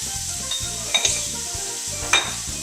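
Mirepoix of onions sizzling in a pot while a spoon stirs it, a steady close frying hiss with a few light scrapes and clinks against the pot.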